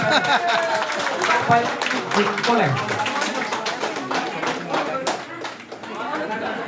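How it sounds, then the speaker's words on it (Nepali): An audience applauding at a celebration honoring people with tika after a boys' game win, continuous clapping mixed with loud talking over it. "ए थपडी थपडी खोइ त"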